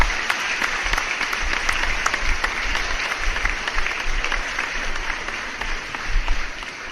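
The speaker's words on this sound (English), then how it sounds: "A quick applause again for everybody here" Applause on a late-night live Q&A stream, a steady broadband clapping texture lasting several seconds at moderate level with no talk over it.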